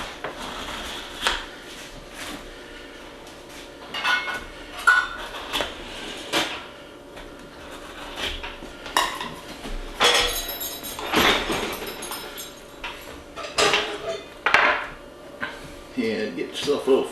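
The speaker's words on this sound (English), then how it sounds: "Take yourself a knife, just a butter knife. Make sure you cut all the way through the bottom gram." A butter knife cuts through no-bake graham cracker bars in a pan, making scattered scrapes, taps and light clinks of metal on the pan at close range, while people talk throughout.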